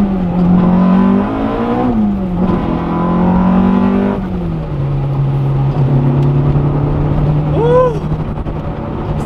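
A Honda Integra Type R (DC2R) engine revs hard while driving in the rain, the pitch climbing through gears and dropping at shifts, loud and close from inside the car.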